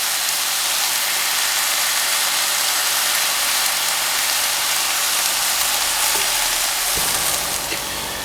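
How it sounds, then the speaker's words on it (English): Peppers stirred into a sizzling saucepan of onions for a vegetarian sauerkraut lasagna, a loud continuous hissing fry that stays steady and close throughout, with a few faint clinks of the utensil near the end. "we are going to stir in our peppers"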